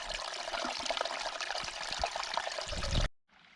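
Mountain stream trickling in the Carpathians, a steady close rush of water that cuts off abruptly near the end.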